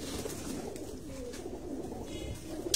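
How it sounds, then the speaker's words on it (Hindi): Pigeons coo softly and steadily in a loft in Rawalpindi, a low continuous murmur of several birds at moderate distance. "ये कबूतर है"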